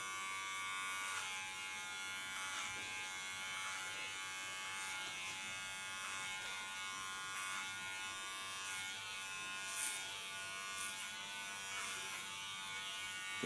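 Electric hair clippers buzzing steadily and close for a pixie haircut, a continuous hum with slight variations as the blade moves along the back of the head, no voices.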